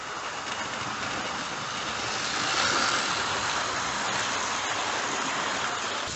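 A small Hornby model train, an LMS Duchess of Abercorn locomotive hauling a mail coach set, runs along its track with a steady, gentle rolling whir that swells slightly midway, fairly quiet and without speech.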